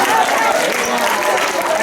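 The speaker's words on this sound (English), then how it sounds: "Let's give her a round of applause." A school audience at a house science quiz breaks into a round of applause, a dense, loud wash of clapping that carries on steadily for a couple of seconds with voices mixed in.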